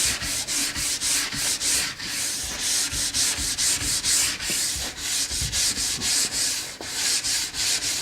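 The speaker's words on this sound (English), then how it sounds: "I'll take a brass brush, it's similar to the one I had on the wheel, and this gets the wax out of the structure" Stiff brass brush scrubbing wax out of the structure of a ski base, a steady run of rapid, close, raspy strokes in quick rhythmic bursts for the whole stretch, with no talking.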